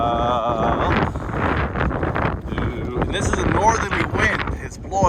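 A strong northerly wind gusts through a 2023 blizzard in Fukui, Japan, roaring steadily and buffeting the microphone loudly throughout, with a person talking under the wind noise.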